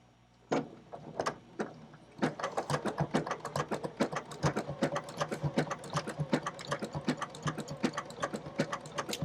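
DX3000 sewing machine stitching quilt pieces for English paper piecing, a few isolated clicks giving way to a rapid, even run of sharp needle taps, close and fairly quiet, with no voices.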